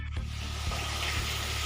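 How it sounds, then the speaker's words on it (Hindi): Fish frying in a pan in a home kitchen, a soft steady sizzle with low crackle, faint and close, alone without talk. "तो यहाँ पे भाभी फ़िश बनाएंगी, तो फ़िश फ्राई कर रही है"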